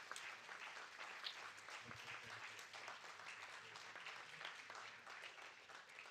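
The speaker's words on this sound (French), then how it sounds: "pas de poignée de main, mais applaudir." Audience applause at an anniversary panel event, a steady dense clapping from a crowd that continues throughout without letting up.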